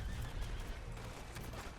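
A horse whinnies in the Red Dead Online video game, a loud, sustained neigh over a dense, noisy in-game background, with no talking.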